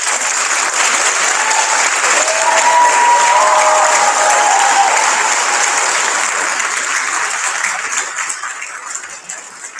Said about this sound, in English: I want to ask for a very, very loud round of applause for my team,